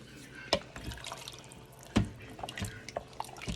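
Water runs into an Instant Pot filled to the two-thirds mark for cooking red beans, making irregular drips and splashes with a few sharper plinks against the pot, moderately quiet with no talking.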